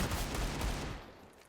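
Desert Eagle pistol fire in a Counter-Strike style competitive shooter match, a dense burst of loud gunshot reports packed into about a second before trailing off into quieter ambience.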